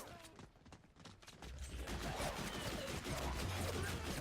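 Gunfire in a video game, a rapid run of shots that becomes denser and more continuous partway through, fairly faint in the mix, with no speech.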